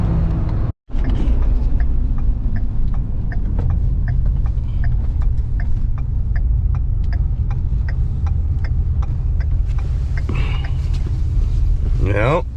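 A truck's engine rumbles steadily from inside the cab while a regular ticking clicks along over it, briefly cutting out near the start.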